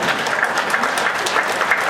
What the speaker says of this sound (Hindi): खड़े होकर जरूर ताली बजाइए